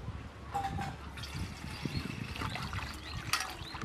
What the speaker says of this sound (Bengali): গামলির মধ্যে জল দাও।